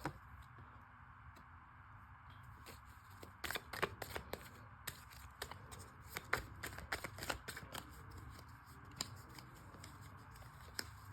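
Tarot cards are shuffled in hand in a quiet room, with soft riffling and a run of crisp, irregular clicks and taps in the middle, close and faint, with no talking.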